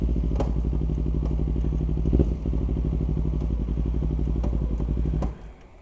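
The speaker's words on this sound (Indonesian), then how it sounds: "Motor gue matiin dulu." A motorcycle engine idles steadily with a rough, even putter and a few light clatters, then cuts off abruptly near the end, leaving near silence.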